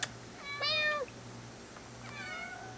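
A cat gives two short meows close by, separated by a brief quiet pause.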